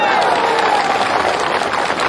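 Audience applause at a live political rally addressed by Navjot Singh Sidhu, a dense steady clatter of many hands with crowd noise mixed in, filling the short stretch at even loudness.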